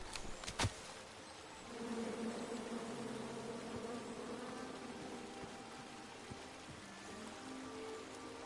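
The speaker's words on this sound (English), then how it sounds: "And then you chop down the tree full of angry bees?" A swarm of angry bees buzzing in a fantasy adventure video game, a steady droning hum that starts after a short sharp click and holds low and continuous to the end.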